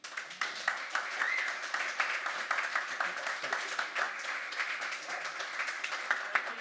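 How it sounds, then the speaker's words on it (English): Live audience applause at a storytelling night, dense and sustained clapping from many hands throughout, steady and fairly close. "Keep the applause going for Simon Toseland."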